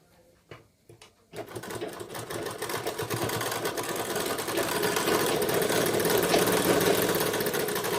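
A sewing machine stitches the side seam of a blouse, starting with a few clicks and taps, then settling into a steady, loud, close mechanical whir that runs continuously without any voice.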